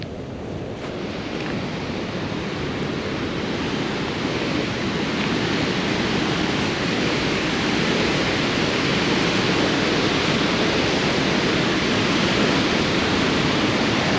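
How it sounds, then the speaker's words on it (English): Water rushing out of a Snowy Mountain hydro power dam beside a power generator, a loud, unbroken roar of broadband noise, steady and close for the whole stretch, no talking. "A bit of water coming out there."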